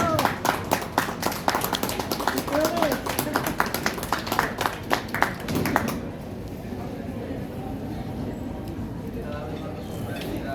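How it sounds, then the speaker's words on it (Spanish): An audience applauds the authors at a book presentation for a vampire-themed Jalisco anthology, a dense burst of many hands clapping for about six seconds before it stops and quiet room noise remains. "¿Me regalan un aplauso por nuestros autores,"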